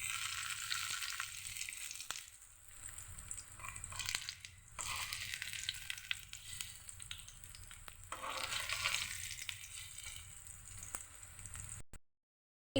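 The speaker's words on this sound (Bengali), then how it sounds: "সবগুলো বড়া আমি ফ্রাই প্যানে দিয়ে দিয়েছি।" Raw green banana fritters (bora) crackle and sizzle steadily in oil in a frying pan, a dense close hiss rising and falling in waves, with no voices.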